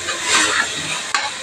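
Sprouted horse gram masala frying in hot oil gives a steady, bright sizzle with a brief clink of a stirring spoon near the end, close and fairly loud.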